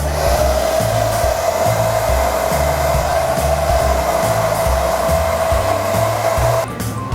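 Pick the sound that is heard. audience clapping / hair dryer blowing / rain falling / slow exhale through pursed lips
hair dryer blowing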